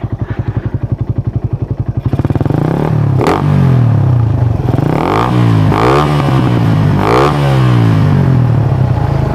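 A Raider 150 motorcycle fitted with a racing exhaust pipe idles with a loud, rapid putter, then revs hard several times. Each rev climbs and falls back, close and loud.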